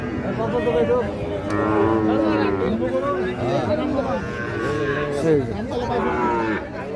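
Sahiwal bull calves, about six to seven months old, lowing and mooing at Ambari cattle market amid a busy crowd of voices chattering, several animals calling over one another at close range.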